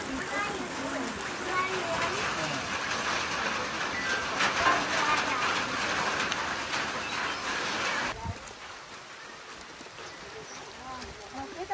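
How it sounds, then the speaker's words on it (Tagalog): Rain falls steadily at a strawberry farm in Sergio Osmeña, Zamboanga del Norte, giving a dense hiss and patter for about eight seconds before it suddenly drops off to a quieter background. "Ulan yun."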